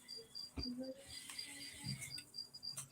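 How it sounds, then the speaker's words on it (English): Crickets kept in a reptile keeper's live-stream room chirp in faint, high, repeated trills, with some quiet background voice and scattered small noises around them. "Anybody know how to shut crickets up?"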